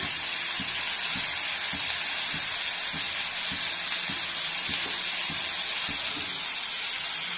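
Chicken tikka grills in a pan as a couple of drops of oil go on top, giving a continuous hissing sizzle with faint regular ticking underneath.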